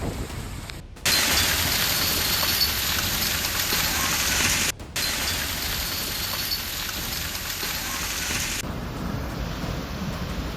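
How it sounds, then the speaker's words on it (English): Thick hail falling during a thunderstorm in Texas, a loud, dense, steady roar of hailstones pelting the ground, broken by two brief near-silent gaps and easing slightly toward the end, with no voices. "Hail fell thick as a thunderstorm swept through Texas"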